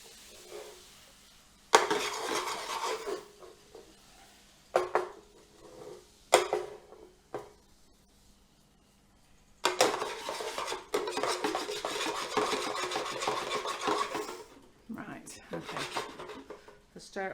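A spoon stirring a sugar and water mixture in a pan, scraping and swishing close by in two longer bursts with a few short knocks between, under occasional talk.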